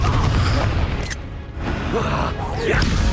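A Confringo explosive spell cast in Hogwarts Legacy bursts with a short, loud whoosh and boom amid busy combat noise, with a voice shouting alongside.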